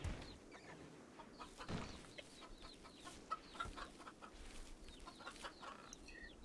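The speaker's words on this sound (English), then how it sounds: "These chickens." Chickens cluck and squawk in RimWorld, repeated short calls scattered over a steady low background hum, moderately loud throughout with no talking.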